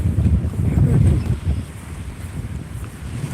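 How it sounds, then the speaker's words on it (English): Wind gusts outdoors on a morning walk, a loud low rumble buffeting the microphone that swells early and then settles into a steadier blustery roar. "Man, this wind is nice."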